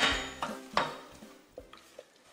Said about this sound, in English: it takes maybe 45 seconds to maybe a minute of just stirring and constantly just working it out